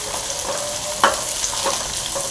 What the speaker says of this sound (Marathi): मसाला चांगला भाजून घ्यायचा आहे।